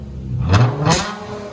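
Dodge Charger 3.6L V6 with a Flowmaster Outlaw exhaust revving twice in quick succession, loud and close, each blip rising into a raspy roar and falling away.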